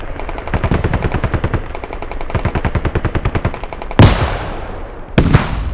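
Rapid, evenly spaced automatic fire in the video game Squad, aimed at armored vehicles. Close and loud, in long steady bursts, with two heavier impact blasts near the end.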